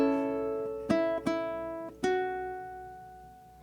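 A ukulele plays the second bar of America the Beautiful: a sustained strum followed by several plucked notes in a steady rhythm, each attack ringing and fading, played alone and close.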